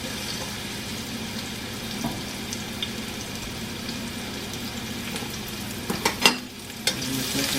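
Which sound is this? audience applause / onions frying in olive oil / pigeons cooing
onions frying in olive oil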